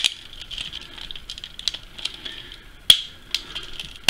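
Plastic parts of a 1/100 scale Zeta Gundam model kit click and crack as they are pressed together, with irregular sharp snaps and small rattles close up, one louder crack standing out.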